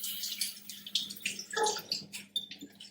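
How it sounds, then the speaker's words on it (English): Running tap water splashing over a courgette being washed in a kitchen sink, an uneven close-up spatter of water lasting a few seconds. "So I'm going to wash the courgette first."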